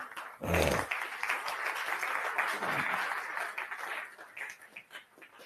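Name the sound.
people clapping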